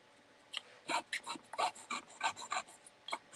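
Craft paper rubbed by hand as a sanding strip on a wooden craft piece, giving about a dozen short scratchy rasping strokes in an uneven rhythm, close and fairly quiet with no talking.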